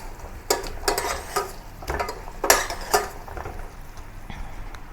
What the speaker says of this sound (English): Return the pork ribs to the caramel. And cook over low heat until all the pork ribs are coated with the sugar syrup.